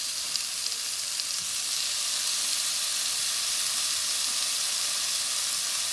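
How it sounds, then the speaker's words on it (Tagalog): Constant bright sizzle of onion and tomato sautéing in a pan for salmon sinigang, an even hiss with no pauses and no voices. "nagigisa po ako ng sibuyas at kamatis."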